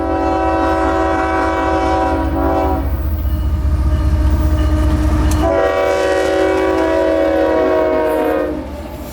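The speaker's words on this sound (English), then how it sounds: "The juice train still not far behind." Loud freight train (juice train) rumbling past nearby on the Palmetto Subdivision with a sustained multi-tone horn blast in two long sections and rolling wheel noise underneath.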